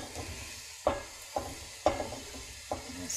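Cauliflower florets being stirred into softened onions and leeks in a soup pot, giving a few distinct scraping clunks of the spoon over a soft sizzle, close and with no talking.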